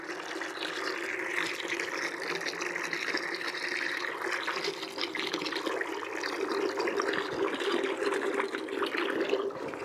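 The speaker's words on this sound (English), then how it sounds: "After the rinse, time to drain the water. Tube off into a bucket," Water draining out of a Rovin Ecospin off-grid washing machine through a tube into a bucket, a steady continuous gush and splash at close range lasting throughout without pause.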